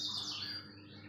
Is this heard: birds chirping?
yes